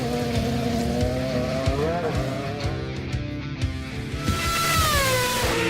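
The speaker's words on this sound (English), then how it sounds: "This is the first time Max will drive a Formula One car on the limit." Formula One car driving on a race track at the limit, a loud, continuous engine whine rising and falling in pitch through gear changes and throttle shifts, with brief tire noise.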